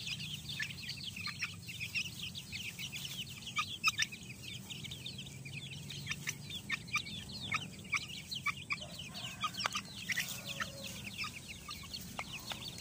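A pet chick about a month old clucks and peeps softly but steadily while its feathers are trimmed, with faint rustling underneath and no voices.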